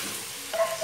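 Onion and garlic sauté in a pan for homemade beans, giving a brief, close sizzle with a small stirring scrape near the end.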